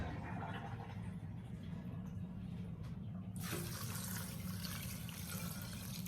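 Water gushes in a steady, broad rush into a soup pot of beans and peas seasoned with onion powder, starting abruptly partway through over low kitchen background noise.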